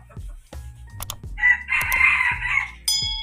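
A rooster crows loudly nearby, one long strained call, with sharp knocks and clucking fowl around it.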